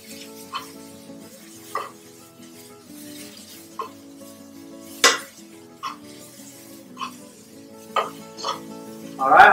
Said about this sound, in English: when it's cooking inside, you can break up the onion slices to make sure it cooks faster